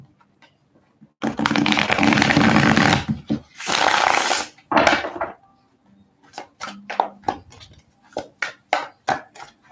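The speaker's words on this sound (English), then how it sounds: "I'm going to do kind of a loud shuffle real quick" Tarot cards are shuffled loudly up close: two long riffling bursts, a shorter one, then a rapid series of sharp snaps and taps.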